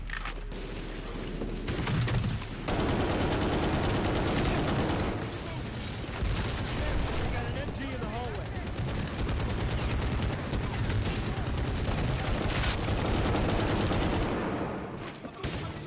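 Dense, continuous gunfire from the Medal of Honor Warfighter shooter, with overlapping rifle bursts and booms filling the whole stretch at a loud, steady level.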